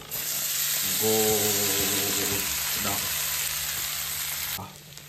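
Steady loud sizzling of green chillies frying in a pan, with a brief stirring scrape partway through, before the hiss softens at the end.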